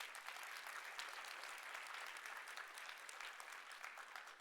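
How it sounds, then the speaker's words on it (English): Steady audience applause fills the hall at a World Food Day event on food as medicine and healthy eating. The dense clapping is fairly quiet, even and unbroken from start to finish. "Give them a round of applause quickly."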